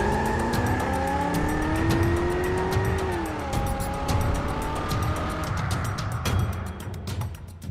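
Race car braking hard in a stopping challenge, tires squealing loudly as the engine pitch drops and the car skids to a halt, heard alone without talk.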